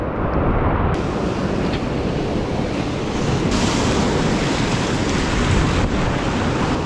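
Heavy surf on Lake Superior pounds the shore during a blizzard, a loud continuous roar of breaking waves mixed with strong wind buffeting the microphone, with no voices.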